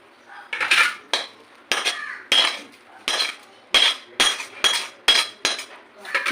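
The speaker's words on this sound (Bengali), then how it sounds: "এবার আমি ঠান্ডা করার জন্য একটা থালায় রেখে দেবো" Repeated metallic scraping and clinking of a spoon transferring cooked potato filling onto a metal plate, about a dozen quick, close strokes in an uneven rhythm with brief pauses between, no voice.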